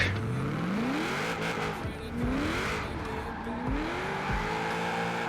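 A Lancer Evo drifting in a video game, its engine revving in rising and falling sweeps under continuous tire squeal, loud and close throughout.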